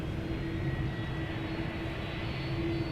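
Heavy widebody jet airliner departing from Schiphol's Polderbaan, a continuous low engine roar with a faint steady whine above it, sustained and fairly distant.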